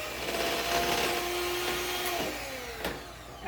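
A handheld electric mixer whirs through softened butter for a Southern sour cream pound cake, a steady motor whine whose pitch dips slightly as the beaters bite, with a brief clatter near the end.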